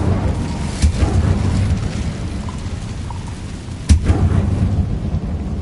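Incendio fire spell cast in Hogwarts Legacy, a steady roaring rumble of flame with sharp cracking bursts, a loud one near the end, continuous and close.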